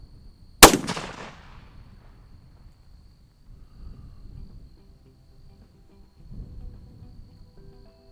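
A single sharp, loud shot from a Christensen Arms Traverse rifle chambered in 6.5 PRC, fired outdoors at a range, with a quick decaying tail, followed by quiet low rumble and insect chirping.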